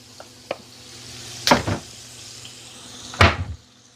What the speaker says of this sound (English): we're just sauteing this up.